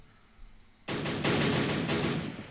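A sudden, loud volley of infantry rifle fire erupts in the World War One strategy game Battle Academy WW1, shots crackling in quick, overlapping bursts that stay dense until the end.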